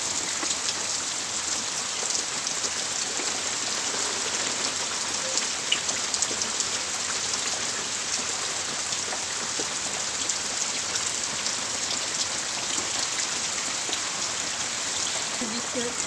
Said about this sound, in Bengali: দেখো কিরকম বৃষ্টি হচ্ছে আমাদের বাড়িতে